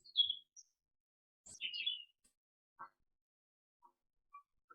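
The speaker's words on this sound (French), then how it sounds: "Un oiseau dans le bois." A bird chirps in the woods with short, scattered tweets and trills separated by silence, faint and distant, with no other sound around it.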